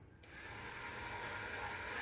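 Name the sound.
drill boring into plastic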